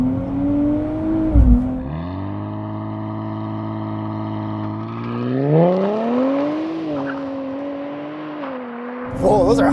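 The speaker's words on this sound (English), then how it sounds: "2024 Nissan Z Nismo with launch control." A 2024 Nissan Z Nismo launching hard from rest with launch control, its engine holding a steady high rev before the rear-wheel-drive car surges forward, revs climbing and dropping through hard shifts, loud and close.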